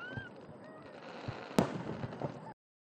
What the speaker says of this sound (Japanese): この日は大河津分水100周年を記念して盛大な花火も打ち上げられました